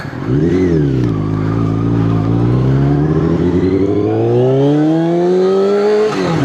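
Motorcycle cruising on the road, its engine droning loud and close with a steady tone that dips, then rises smoothly as it speeds up, with no talking.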